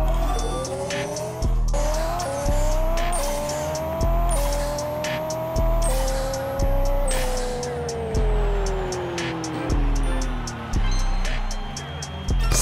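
Race car engine in the Pixel Car Racer video game, a loud, high revving whine that climbs through repeated gear shifts with sharp drops between them, tire squeal mixed in, close and unbroken for the whole stretch.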